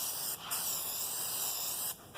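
Continuous loud hiss of spray adhesive for van conversion carpeting, held steady for about two seconds with brief dips at the start and end; no talking.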